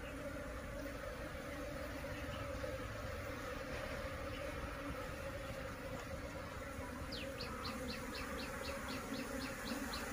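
Honey bees buzz in a dense, continuous drone around beehive boxes in the Vietnamese countryside, loud and close throughout with no talk.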